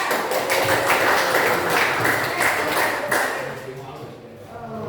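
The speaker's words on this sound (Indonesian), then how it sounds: "oke, tepuk tangan." Participants in a training class on managing emotions clap together. The burst is loud and fairly close, with individual claps audible, then fades out over the last second.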